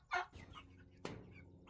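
Meat chickens in a coop give a sharp close cluck at the start and another brief call a second later, over a low, quiet background.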